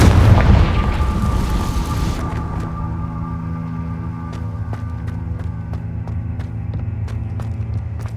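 A Confringo fire spell blast in Hogwarts Legacy hits as one loud, booming burst at the start, then fades into a low rumble with a steady drone and light ticking.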